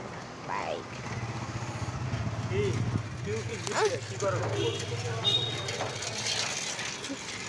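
A motorbike passing on a road, its engine a steady low drone swelling in the middle and fading, with people talking nearby over it.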